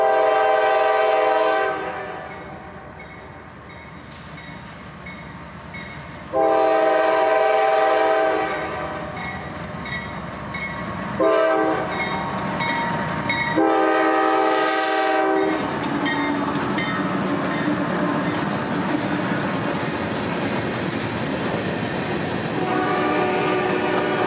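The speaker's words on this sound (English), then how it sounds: "with 2 biodiesels leading another short train for CEMEX" A CSX freight train on the Tampa District passes close by, led by two biodiesel locomotives. Loud horn blasts sound repeatedly over the steady rumble and clatter of the wheels, with no voices.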